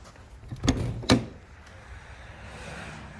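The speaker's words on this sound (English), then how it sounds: "The dressing room does have a camper door with a window." A camper door on the dressing room of an all-aluminum 2023 Adam two-horse straight-load trailer gives two sharp metallic knocks about half a second apart, close by, followed by quiet room tone.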